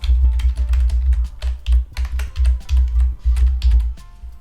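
A computer keyboard typed on at close range, a fast irregular run of loud clicking keystrokes with brief pauses between words.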